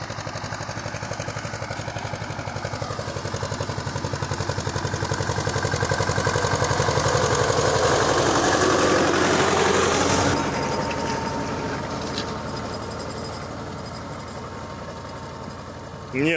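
A T-25 tractor engine runs steadily while pulling a Kverneland-size Bellota plough through a field, a continuous mid-pitched drone with rattling that swells in the middle and eases off toward the end.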